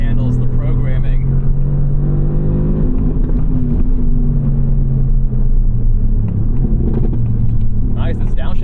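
Loud cabin sound from a 2018 Mercedes-AMG GT R with its dual-clutch gearbox in automatic: a strong low engine drone that steps in pitch through quick, smooth gear changes, with a voice speaking over it briefly near the end.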